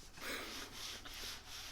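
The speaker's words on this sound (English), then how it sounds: "I'm wiping the board down with a wet paper towel" Quiet rubbing swipes of a wet paper towel across a sanded wooden board for an end table, three or four soft rhythmic strokes close by.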